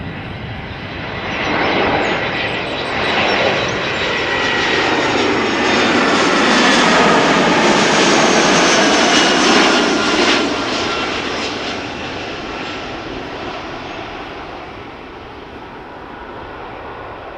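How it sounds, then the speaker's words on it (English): An Air France Airbus A319 arriving at Amsterdam Schiphol passes close and loud, its roar swelling to a peak midway and then slowly fading. "Air France flight 1444 up next, A319 arriving from Paris, Charles de Gaulle."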